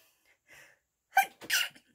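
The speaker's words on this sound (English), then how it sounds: "Oh, I'm going to sneeze." One person sneezes indoors, a quiet inhale and catch of breath followed by a sharp, close double burst.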